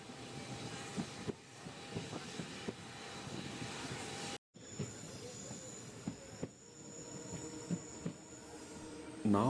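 A passenger train on the Rameswaram to Madurai line rolls along, a continuous rumble of wheels and carriages with squeals and clanks from the rails, one brief dropout midway and a louder burst at the end.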